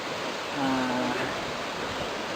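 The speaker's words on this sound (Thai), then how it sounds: "ตอนนี้เรามาถึงน้ำตกจอกกระดิ่งแล้วนะครับ" The Jok Krading waterfall gives off a steady, broad rushing roar that fills the whole clip at an even level, with a brief faint voice passing over it.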